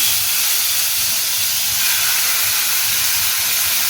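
Chopped onion hits hot oil with fried five-spice in a pan for a curd pointed gourd dish, giving a loud, steady, unbroken hiss of sizzling with no voices.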